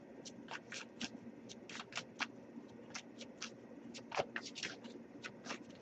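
Quick riffling bursts of tarot cards being shuffled, several in close succession with short pauses, soft and near, no talking.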